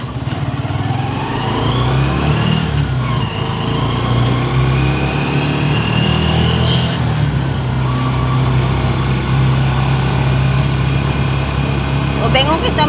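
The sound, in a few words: motorcycle being ridden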